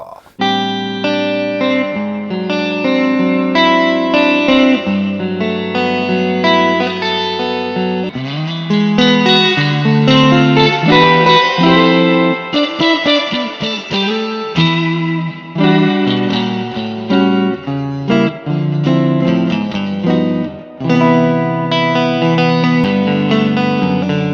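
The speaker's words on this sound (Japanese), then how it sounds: "続きましてはトパンがこちらリバーブになっております。" An electric guitar plays sustained chords and melodic phrases through a Catalinbread Topanga reverb pedal, with lush, washing reverb tails that fill the gaps between notes, loud and up close.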